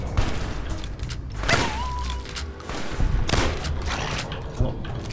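Gunfire in the video game Fallout New Vegas, likely a shotgun, lands as several loud, sharp blasts spread across a few seconds over a rumbling background, with a brief high tone between them.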